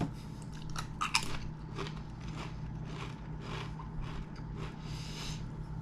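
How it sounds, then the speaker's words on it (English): Crunchy bites and chewing on a taco-flavored Pringles potato crisp, repeated crisp crackles through the stretch, close and fairly loud with no talking. "Chewing a chip and just feeling meat."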